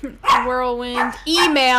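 A pet dog barks a few times indoors, its yaps mixed in with a person's steady talking nearby.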